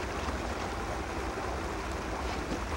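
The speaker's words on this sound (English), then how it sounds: "So the water is getting kind of violent." Violent rushing floodwater in the video game Raw Danger: a loud, steady, broadband roar of churning water that continues without a break and with no talking.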